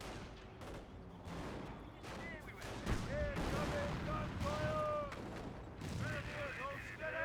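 Battle sounds from Company of Heroes 1, a World War II strategy game, with rifle grenades and rapid gunfire fighting Grenadiers: dense, continuous crackle of shots and bursts, with whistling tones and explosive thumps over roughly seven seconds, loud throughout.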